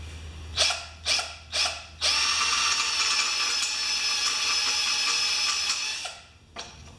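Short bursts of a power drill starting up, then a long steady high-pitched whine as it bores into a metal bolt on a Toro mower, trailing off with a brief final burst.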